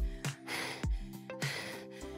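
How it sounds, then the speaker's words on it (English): Heavy, ragged breathing after a standing dumbbell HIIT workout, with several sharp gasping inhales and puffing exhales close to the mic, fairly quiet and without speech. "Heavy breathing."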